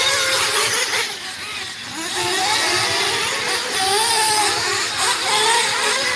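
A nitro RC truggy racing around a dirt track in a main-event race, its small high-revving engine whining steadily and rising and falling as it laps, with a constant loud mechanical drone.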